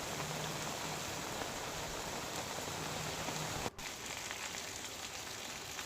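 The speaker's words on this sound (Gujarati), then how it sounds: "સમગ્ર તાલુકામાં સવારથી જ સતત વરસાદ જોવા મળી રહ્યો છે" Heavy, continuous rain falling over a rural taluka, a steady dense hiss with no break except a brief dip, faint and even throughout with no voices.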